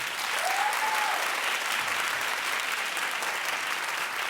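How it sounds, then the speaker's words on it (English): A studio audience claps steadily throughout, a dense sustained wash of applause at close range with no speech over it. "Clap if you think that's a violation."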